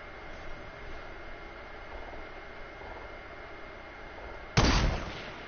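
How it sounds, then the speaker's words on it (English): Gunfire in the video game Fortnite: one sudden loud burst rising above a steady noisy game-ambience background, then fading over a moment, with no talk. "He's shooting someone from above"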